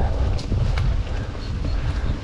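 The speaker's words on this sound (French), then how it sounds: "Du vent du nord, du vent bien frais." A cold north wind buffets the microphone during a mountain bike ride, a dense low rumbling roar that stays loud and steady for the whole stretch, with no talk.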